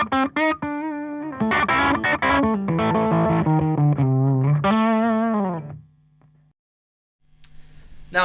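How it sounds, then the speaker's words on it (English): An electric guitar runs through a Boss ME-70 multi-effects unit on its solo setting, playing a bright, distorted lead phrase of sustained notes and bends that rings out and fades to near silence before a brief final pluck. "If I roll that round to the solo setting, you'll see that it gives a little bit more bite"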